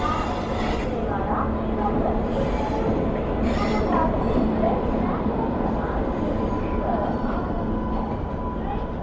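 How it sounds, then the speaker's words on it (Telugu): The Navajeevan Express, hauled by a WAP-7 electric locomotive, arrives at platform 7 of a station with a continuous rolling rumble and occasional metallic wheel squeals, while a voice talks over it. "మనకి నవజీవన్ ఎక్స్ప్రెస్ వస్తుంది చూడండి, ప్లాట్ఫామ్ నెంబర్ 7లోకి"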